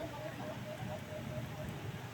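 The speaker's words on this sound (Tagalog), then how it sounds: "Ingay ng ulan eh" Steady rain hisses across the whole moment, a dense even wash of drops with a faint voice low underneath.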